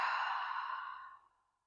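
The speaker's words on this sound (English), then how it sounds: "big inhale in. And exhale it out." A single deep, breathy exhale during muscle relaxation, close and soft, fading out gradually over about a second and a half.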